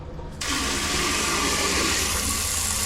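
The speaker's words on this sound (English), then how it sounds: "Let's try this here, the bidet." A hotel bathroom bidet sprays water, starting abruptly after a brief quiet moment and then hissing steadily and loudly, close by with no voices.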